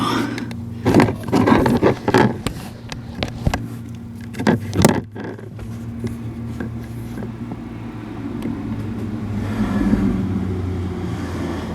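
A Ford C-Max engine idles steadily with a low, constant hum throughout, while louder clunks and handling noises break in near the start and around the middle.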